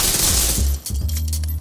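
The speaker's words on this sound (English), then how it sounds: "I'm going with the SMG," Rapid bursts of SMG fire in The Division 2, loud and close, with a sustained rattling volley that briefly drops off and resumes.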